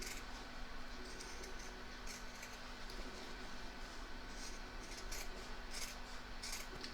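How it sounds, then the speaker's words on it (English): Scissors trim fabric around the edge of a Valentine's coaster, a soft continuous snipping and rubbing with a few sharper cuts, faint and close, with no one talking. "So I'm now going to trim all the way around as I did for the other one."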